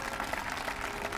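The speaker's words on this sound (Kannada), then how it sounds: "ಜೋರಾಗಿ ಚಪ್ಪಾಳೆ ತಟ್ರಿ ಒಂದ್ಸಲ." Loud, dense clapping from an audience at a religious discourse, a steady wash of many hands that continues without a break.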